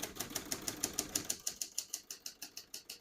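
Rapid keystrokes on a 1967 Hermes 3000 vintage portable typewriter, each key strike a sharp, close metallic clack in a steady, even rhythm with no talking.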